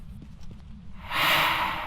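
Ghost in the video game Phasmophobia, a rough, breathy whisper rising into a harsh exhaled gasp after soft background noise.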